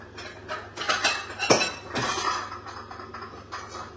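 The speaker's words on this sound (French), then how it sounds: "On va prendre un saladier." A salad bowl being taken out in a home kitchen while making passion fruit ice cream, with clinks and knocks of bowls and utensils, a sharp clatter near the middle, fairly close and moderately loud.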